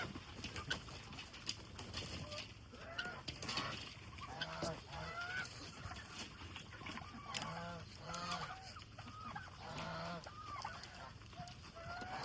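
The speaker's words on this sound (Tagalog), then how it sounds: "Dito naman tayo sa mga gansa." Geese honk repeatedly in a steady chorus of nasal calls, with other fowl clucking in a noisy farmyard background.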